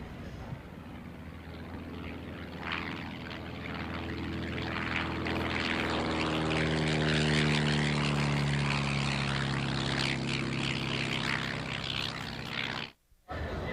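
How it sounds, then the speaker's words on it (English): A restored 1934 Howard racer, a golden-age vintage racing plane with English de Havilland Gipsy engines, drones past at an antique fly-in airshow, its propeller tone swelling to a loud, rich pass before cutting off abruptly. "this is a Howard racer named Pete"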